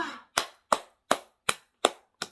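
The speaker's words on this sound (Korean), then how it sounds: "박수." Seven sharp hand claps land at an even, steady pace, close and crisp, with nothing else audible between them.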